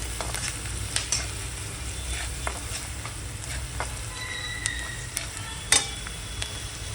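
Spices mixed into hot oil in a pan, a steady sizzle with scattered scraping stirs and light clicks of the spoon, close up with no voices.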